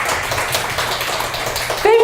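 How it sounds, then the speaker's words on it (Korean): A church congregation bursts into steady, close applause for a speaker during a lecture, the clapping running throughout before a voice cuts in right at the end. "박수 한번 주세요."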